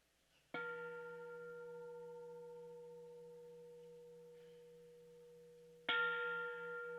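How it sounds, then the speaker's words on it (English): A gong rings at a university commencement ceremony. Two clear, sustained struck tones sound in a quiet hall, each decaying slowly, the second striking as the first fades, with no talk. "I'll ring the gong 3 times"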